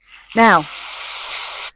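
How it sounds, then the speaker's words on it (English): Brake and clutch cleaner sprayed from an aerosol can onto a cloth, one sustained loud hiss of over a second, close to the mic, just after someone briefly speaks. "spray a cloth, not the tow ball itself"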